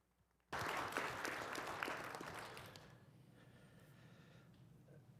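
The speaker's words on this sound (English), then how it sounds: "We can give Marcy and her team a round of applause" An audience at a community college governing board meeting breaks into sudden, loud applause that holds for a couple of seconds and then fades to scattered clapping and room noise.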